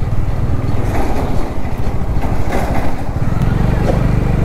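A Bajaj Dominar 400 motorcycle rides along with its engine running steadily, a loud, close, throaty thrum with slight fluctuations and wind rush over it.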